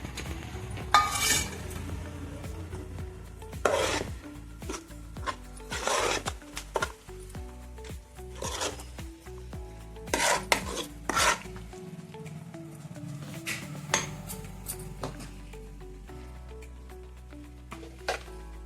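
Red chilli chutney being mixed with spice powder by hand in a metal vessel, giving intermittent scraping, rubbing and clinking strokes that repeat irregularly, close and moderately loud.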